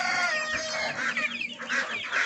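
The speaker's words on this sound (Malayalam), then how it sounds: "കുറച്ച് പുള്ളി കോഴികളുടെ പൂവൻ കോഴികൾ ഇതൊക്കെ ഉണ്ട്" Spotted roosters cluck and crow nearby in a dense, overlapping chorus of fowl calls, loud and continuous with no talk.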